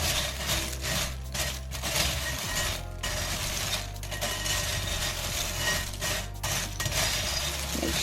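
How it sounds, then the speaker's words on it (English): Pretzels, Chex mix and roasted salted almonds being stirred together in a bowl, a steady close rustling and rattling of dry pieces tumbling and scraping, continuous with faint pauses between strokes and no voices. "now I'm going to add my 1 cup of almonds, roasted salted almonds. And then mix together."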